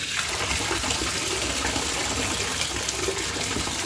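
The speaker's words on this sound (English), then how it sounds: "Because I'm going to go ahead and turn the faucet on." Water rushes steadily from a faucet, a loud continuous broadband splash filling the whole clip with no voices.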